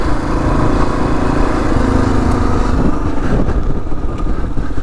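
A 2022 Kawasaki KLR 650 dual-sport motorcycle rides off-road, its single-cylinder engine droning loud and close with a steady rumble and slight rises in throttle throughout.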